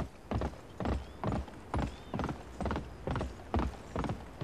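Horse hooves clip-clop in a steady rhythm in the video game Gun, eight evenly spaced hoofbeat bursts at a trot, close and fairly loud with no talking.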